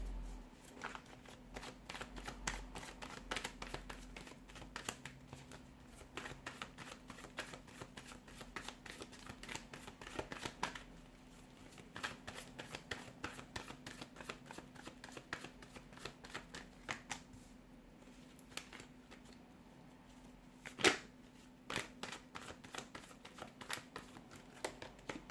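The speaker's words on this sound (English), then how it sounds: "let's give the cards a shuffle and let's begin" Tarot cards are shuffled close up, a long run of quick, soft riffling flutters and papery snaps that come in repeated bursts, quiet and steady with no talking.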